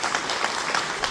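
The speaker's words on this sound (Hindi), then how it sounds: "सभी लोग एक बार तालियों के साथ सर का स्वागत करेंगे" An audience at a CSC taxi service event applauds to welcome the owner of Rahul Travels, a dense, even burst of clapping from a crowd.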